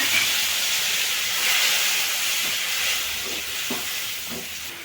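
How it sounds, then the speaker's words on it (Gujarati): Garlic chutney sizzling in hot oil with mustard and cumin seeds, being cooked for bhungla potatoes: a steady, bright hiss of frying carries on throughout, with a few soft pops and crackles near the end. "લસણવાળી ચટણી છે એને હળહળવા દેવાની છે"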